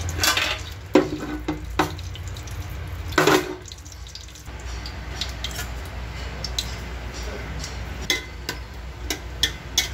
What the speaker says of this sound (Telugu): దీంట్లోనే సరిపోయే జీడిపప్పు వేసుకొని శుభ్రంగా ఫ్రై చేసుకుంటాం